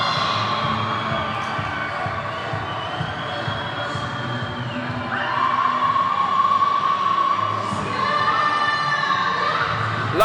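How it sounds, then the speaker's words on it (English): An ice hockey crowd at an IIHF U18 World Championship Division III game cheers after a bronze medal win, a steady roar of voices with horns and whistles rising midway. "Crowd is just going wild."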